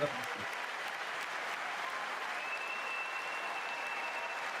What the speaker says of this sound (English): Why are they applauding Nancy?